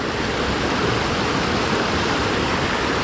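Rushing water from waterfalls on a rugged Australian river, a steady broadband roar that holds constant throughout with no voices present.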